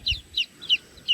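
A brood of nine newly hatched chicks gives high, thin peeps, about four short chirps in a loose, steady rhythm, close by and clear over a quiet background.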